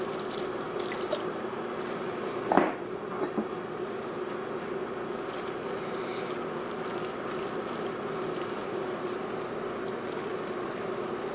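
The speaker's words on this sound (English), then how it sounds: "I'm going to add a little bit of pasta water, just to create a little bit of creaminess." Pasta water pours into a curry pasta sauce in a pan, a steady soft trickle with a brief louder splash early on.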